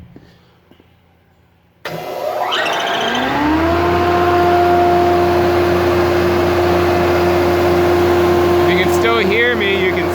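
A Rockwell wood planer switches on at about two seconds, its motor spooling up into a loud, steady whine with a deep hum that runs alone and unbroken to the end.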